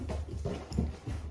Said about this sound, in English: I need to go before my dog flips out because the mailman's here